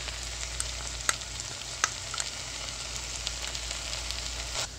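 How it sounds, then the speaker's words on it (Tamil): Ginger garlic paste frying with onions in a pan, a constant quiet sizzle with a few light stirring taps, close up and alone. "இஞ்சி பூண்டு பேஸ்ட் போட்டுட்டு நல்லா ஒரு தடவை மிக்ஸ் பண்ணி விட்டுக்கோங்க"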